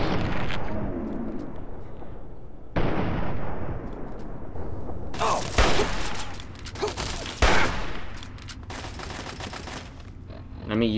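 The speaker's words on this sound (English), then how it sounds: "Let me use some frag grenades." Frag grenade explosions in the video game Fallout 3, several heavy booming blasts amid dense continuous gunfire and rumbling battle noise, with a voice talking underneath.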